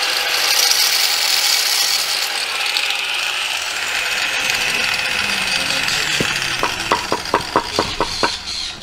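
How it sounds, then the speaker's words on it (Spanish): A power saw cuts construction blocks at a house building site, a loud sustained grinding whine that shifts in pitch, ending in a series of sharp rhythmic scraping strokes. "donde está el maestro de construcción ahí cortando los bloques"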